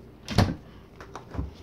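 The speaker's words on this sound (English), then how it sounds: "This door is harder to open than it looks." A stiff household door being opened, two distinct bumps and thuds of the door being tugged and released, close and fairly quiet.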